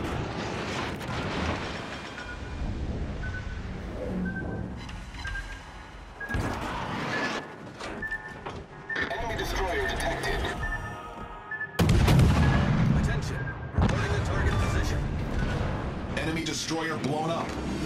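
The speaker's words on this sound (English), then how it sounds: "Destroyer blown up." A destroyer blowing up in the naval video game World of Warships: Legends, amid loud repeated cannon booms and gunfire, with a heavy explosion burst around the middle and game voice alerts and tones mixed in.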